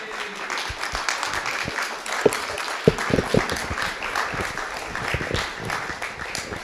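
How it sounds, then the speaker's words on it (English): A church congregation at a Sunday service claps together, a moderate wash of applause with a few louder individual claps standing out near the middle. "applause"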